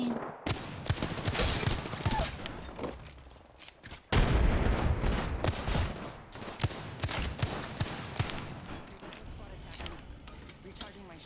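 Wingman pistol fire in the shooter Apex Legends, with repeated sharp reports and overlapping blasts through dense in-game combat noise, loud and close, with a voice talking over it.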